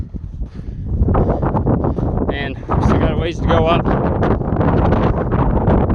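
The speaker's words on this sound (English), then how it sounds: "it's super windy and the wind's really cold up on this ridge" Steady gusting wind buffets the microphone with a low rumble throughout on a cold ridge of Mount McLoughlin, Oregon, while a person speaks close by over the roar.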